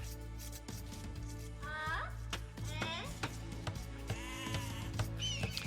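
Sheep bleat several times in a strategy video game, short wavering calls over clicking interface sounds and a low hum, with a commentator's voice underneath.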